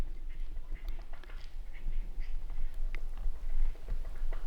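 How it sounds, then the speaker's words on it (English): Several birds call outdoors in Ramsey Canyon Preserve, Arizona, with duck-like quacks, chirps and woodpeckers scattered over a steady low rumble of background noise. "you can hear all the noises of birds"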